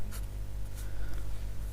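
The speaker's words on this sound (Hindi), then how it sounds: "यहाँ पर विषय को काले पेन से लिख दीजिएगा" A black pen writes on paper in a Hindi lesson about a clerk job application letter, giving a soft, close scratchy scrawl that runs throughout over a steady low background hum, with no talking.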